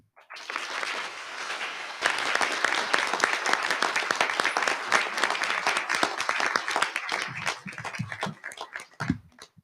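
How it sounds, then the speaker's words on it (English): Applause at a bill-signing ceremony, a room full of people clapping steadily for several seconds before it tapers off with a few scattered claps and faint voices. "A round of applause."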